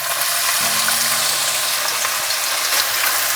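Finely chopped medium onions dropped into hot oil in a pan, a steady bright hissing sizzle that fills the whole short stretch, close and loud without any talk.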